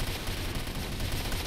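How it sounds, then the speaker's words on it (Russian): Continuous dense gunfire and distant shooting in the S.T.A.L.K.E.R. game, including a helicopter attack, forming a steady rattling barrage throughout with no talk. "просто кругом выстрел"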